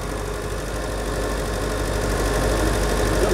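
Citroen 2CV engine idling after an ignition switch fix, a steady, even mechanical hum with a faint rapid pulse, close and continuous with no talk.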